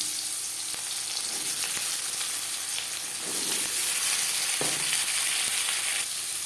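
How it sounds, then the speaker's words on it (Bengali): Onions dropped into four spoons of hot refined oil for frying fish, giving a steady, moderately loud sizzle with brief crackles and a small surge partway through, no talk. "4 চামচ রিফাইন্ড অয়েল গরম করে নিয়েছি। এবার দিয়ে দেবো পেঁয়াজ।"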